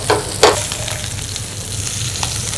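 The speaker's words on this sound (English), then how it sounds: "Wow, sizzling hot." Steady crackling sizzle of Kashmiri tabak maaz, lamb ribs, frying in hot oil, with a couple of sharper spatters near the start; no talking.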